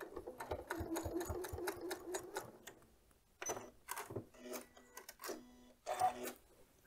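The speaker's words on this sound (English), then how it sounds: "and sew right off the seam" A sewing machine stitches quilt binding, running in steady mechanical bursts with short pauses between runs, close and clear with no talking.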